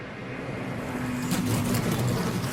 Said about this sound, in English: Hear a lot of the guys starting the engine and shutting them off, coasting as much as they can right now.